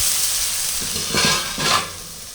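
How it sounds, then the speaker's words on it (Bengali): Raw mango pieces fry with turmeric for mango chutney, a close steady sizzle broken by two louder scraping stirs of the pan. "হলুদ দিয়ে আমটা একটু কিছুক্ষণ ভেজে নিলাম দু তিন মিনিট মতো দু মিনিট মতো নাড়াচাড়া করে ভেজে নিলেই হয়"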